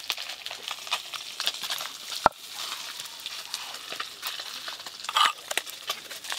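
Fish frying lightly in a pan, with a soft, steady sizzle and scattered crackles and spatters, plus one sharp clack of a utensil against the pan; close and fairly quiet, with no talking.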